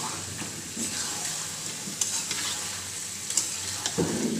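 Meat and potatoes stir-fried with spices in a pan, a steady close sizzle broken by occasional scraping stirs, with no voices.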